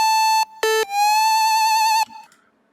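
A bright synth melody opening an electronic drop, with a couple of short clipped notes leaping into a long sustained tone with slight vibrato, then cutting off into a brief decaying tail, loud and alone.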